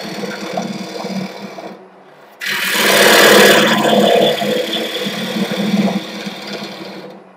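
A wood lathe turns a bowl while a tool takes a finishing cut toward an inch-thick wall, a steady motor hum broken by a short lull and then a louder scraping, hissing cut that lasts several seconds.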